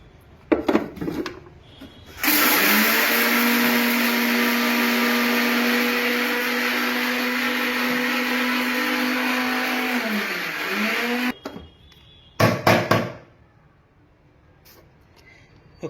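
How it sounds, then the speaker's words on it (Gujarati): Sugar, cardamom and nutmeg are ground together in an electric grinder: a loud, steady whine that runs about nine seconds and then stops, with short bursts of grinding and knocking just before and just after. "2 ચમચ ખાંડ નાખી પાછું પીસી નાખીએ."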